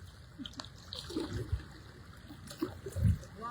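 Typhoon floodwater in a Metro Manila street sloshes and splashes in irregular bursts, with a louder heavy splash near the end over a steady watery wash.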